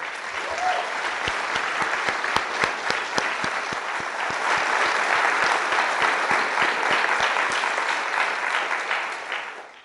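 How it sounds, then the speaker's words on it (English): Large audience applause for staff at a 2016 alternative education graduation ceremony, dense sustained clapping with sharp individual claps standing out, loud and continuous for the whole span before tapering at the end. "let's recognize the DAE staff with a huge round of applause."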